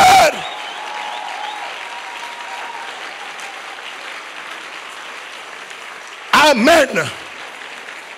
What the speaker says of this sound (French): tu as raison de continuer d'acclamer